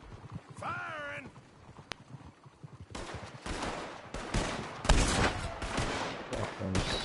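Gunfire from Red Dead Redemption 2 builds from scattered distant shots into dense, loud volleys of repeated cracks, with hoofbeats and brief game sounds early on.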